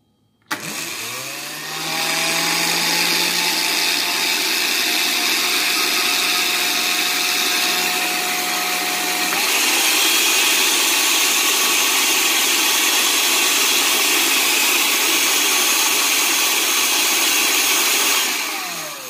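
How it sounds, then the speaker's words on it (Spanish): A blender whips egg white, starting with a sharp click, then a loud steady motor whine that shifts pitch midway as the load changes, running close and continuous before stopping. "lo primero que vamos a hacer es poner en nuestra licuadora la clara del huevo"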